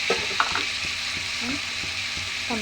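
Cauliflower curry sizzles steadily in a pan with ginger-garlic paste and turmeric, the florets just added. A constant frying hiss runs throughout, broken by a few soft clinks and scrapes of stirring.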